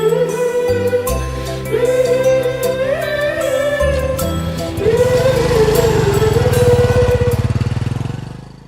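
A motorbike engine revs and pulls away, its pitch climbing and dipping with each throttle change. The sound is loud and close throughout, with a rising rough roar near the end.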